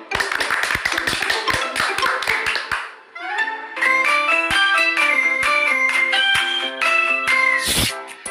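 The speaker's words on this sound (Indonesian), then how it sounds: "Tepuk tangan ya" Children clap hands in a quick run of sharp taps lasting under three seconds, followed by a bright, bell-like musical jingle with a brief swell near the end.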